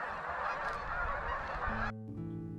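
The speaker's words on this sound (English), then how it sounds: "hundreds of ducks and geese were flying over me" Dense chorus of snow geese honking, a loud noisy flock calling over one another, cut off near the end by a brief tonal hum.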